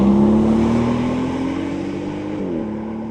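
A Porsche Cayenne Turbo E-Hybrid SUV accelerates hard along a road, its engine note climbing steadily in pitch before a brief drop at a gearshift, loud and close with no talk.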